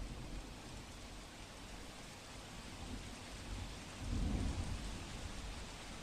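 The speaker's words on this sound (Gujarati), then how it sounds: "તો દક્ષિણ ગુજરાતમાં ફરી એક વખત વરસાદ વરસી રહ્યો છે" Heavy monsoon rain pours steadily in south Gujarat, with a low rumble of thunder swelling near the end beneath the constant hiss, and no voices.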